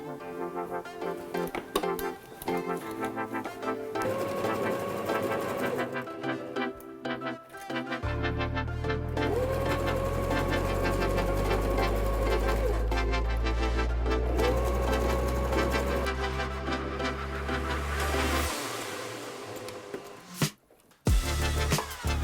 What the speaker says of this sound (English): you have to stretch it while you're sewing